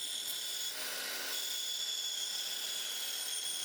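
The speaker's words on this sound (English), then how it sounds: "I will be using this circle cutting jig on my bandsaw here to cut to size." A bandsaw cuts a wooden tray blank on a circle cutting jig, the workpiece turning on a pivot. A steady high whine with a rasping cut runs continuously and close for the whole stretch, with no talking.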